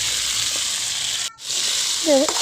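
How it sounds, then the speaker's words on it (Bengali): Cut vegetables are stirred and fried in spiced masala for a rohu fish-head and yardlong bean curry. The sizzle is close and constant, with a brief break partway through and a short tonal sound near the end. "এটা ভালোভাবে মশলার মধ্যে দিয়ে ভালোভাবে নেড়ে চেড়ে মিশিয়ে নিব"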